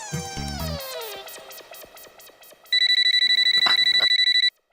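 A telephone rings with a rapid, steady electronic trill, loud and close, following a stretch of music.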